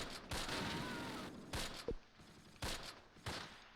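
Gunfire in the video game Close Combat Last Stand Arnhem, a few separate sharp volleys spaced over a few seconds, moderately loud against a quiet background.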